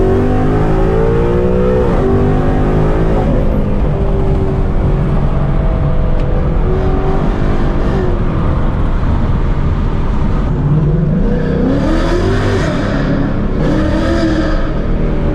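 A Mustang GT fitted with Texas Speed longtube headers accelerates hard on a freeway on-ramp, its loud, continuous engine roar rising through the gears with rev climbs and shift breaks, heard from inside the car.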